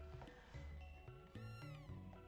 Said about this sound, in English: and Alphador, the purple cat.